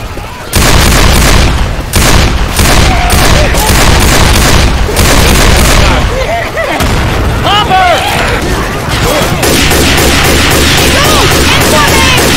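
A pipe bomb going off in the video game Left 4 Dead 2, heard as loud booming blasts and crackling gunfire-like bursts that fill a dense, continuous game mix, with voices talking over it.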